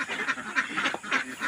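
Dark-feathered egg-laying ducks quacking in a steady, busy chorus of overlapping calls, close and fairly loud, with no talking.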